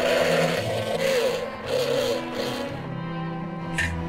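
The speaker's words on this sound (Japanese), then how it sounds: "そのまま皮ついた状態で、一緒にミキサーにかけてます。" A blender purees whole red paprika, skin on, together with cherry tomatoes, a steady close motor whir with small shifts in load and pitch as the mix churns, running continuously with no talk.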